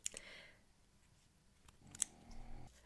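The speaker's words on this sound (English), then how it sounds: "And now cut a thread" Scissors snipping crochet thread for a beaded necklace, two quick sharp cuts close by with quiet handling sounds between, no talking.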